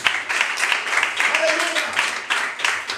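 A church congregation applauding during a Spanish-language worship service, a dense roomful of rhythmic clapping that keeps an even pulse with small surges throughout.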